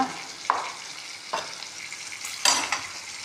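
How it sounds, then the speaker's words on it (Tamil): Onions sautéing in a pan with coarse salt, a steady sizzle with a few louder stirring scrapes at intervals, close and with no talking. "வெங்காயத்தை நல்லா வதக்கிடலாம்."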